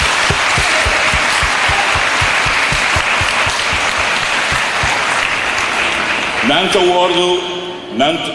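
A crowd gives a long, dense round of applause for the FKPD staff during a live broadcast, steady and loud for several seconds before tapering as tonal music rises near the end.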